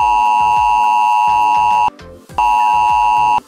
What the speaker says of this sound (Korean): 아이폰의 긴급재난문자 수신음이 바뀌었습니다